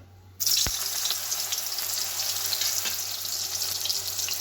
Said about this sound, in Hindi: सोयाबीन बुन भाजा लेगे